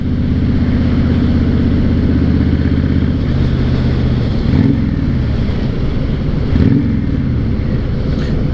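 A 2006 Honda VTX1300 motorcycle engine rumbles steadily up close with a deep, throbbing idle, then revs twice in brief swells that rise and fall before settling back to the loud, constant drone.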